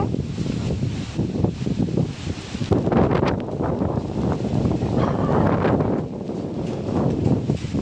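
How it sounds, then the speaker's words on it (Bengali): Strong, gusting wind from Cyclone Remal roars and buffets continuously, with rushing bursts rising and falling and rustling mixed into the din. "দেখো কিরকম হাওয়াটা দিচ্ছে আর কি ঝড় উঠেছে দেখো"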